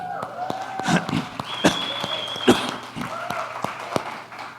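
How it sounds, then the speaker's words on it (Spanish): A church audience applauds the women, with scattered, uneven claps and a few sharp louder hits over a quiet background, fairly sparse and close. "Démosle un aplauso a las mujeres"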